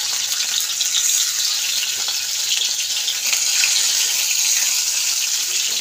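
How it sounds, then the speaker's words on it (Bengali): Egg frying lightly in hot oil for a poppy-seed curry, a steady bright sizzle and crackle holding at an even level throughout, with no talk over it. "তো ডিমটা ভাজা হচ্ছে"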